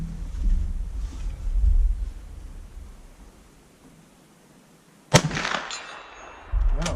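A Japanese Arisaka Type 99 short rifle fires cast bullets at 100, one sharp loud report cracking out after a stretch of outdoor wind noise.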